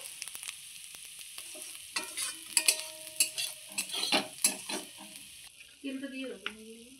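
Sojikochu pieces frying in hot oil in a home kitchen, a steady sizzle with intermittent stirring scrapes and utensil clinks, close and moderately loud, no talking.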